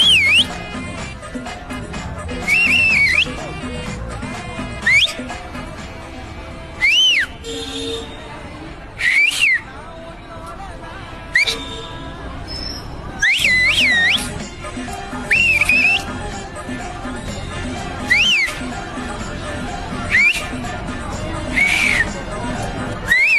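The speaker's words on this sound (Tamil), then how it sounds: "இப்போ இப்போ மாடலாக டிஃப்ரெண்ட்டாக விசில் அடிப்பேன்" A man whistles a series of short, shrill phrases in varied styles, each burst separated by pauses, loud and close over a faint background of voices and room noise.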